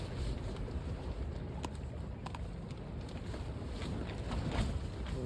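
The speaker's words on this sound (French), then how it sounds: "Là ça souffle, il y a un gros vent." Constant wind roars and buffets the microphone outdoors, a dense low rumble with occasional gusts and faint knocks, no voices.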